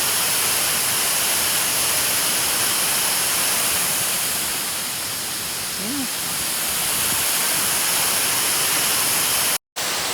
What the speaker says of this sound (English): So this is Pdem Waterfall.